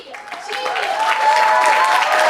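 An audience at a student freshers' musical begins clapping for the backup singers, a brief dense patter that builds over two seconds while a voice still speaks over it.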